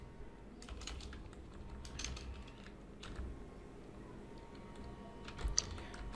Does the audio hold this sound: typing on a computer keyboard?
yes